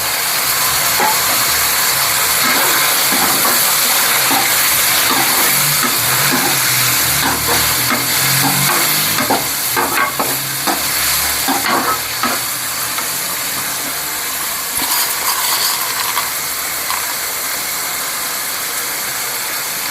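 Tomatoes fry and get stirred in a pan for village-style murungakkai pori kuzhambu, a loud continuous sizzle and hiss with intermittent scraping of the spoon against the pan, up close and without talk.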